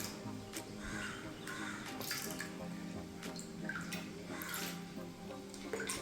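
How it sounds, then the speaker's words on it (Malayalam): Water poured into a large pot of fermented rice porridge, a steady running splash with dripping accents throughout, close by and fairly soft. "പഴങ്കഞ്ഞി ഒഴിച്ച് കുറച്ച് വെള്ളം ഒഴിക്കാം"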